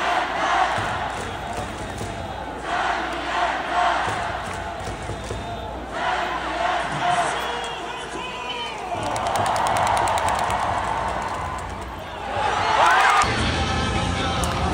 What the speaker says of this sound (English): they will cheer